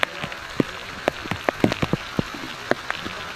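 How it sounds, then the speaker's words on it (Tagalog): Rain pattering on a surface near a mangrove lagoon by an underground river, scattered distinct drops landing close by in an irregular rhythm over a soft steady hiss. "It's raining!"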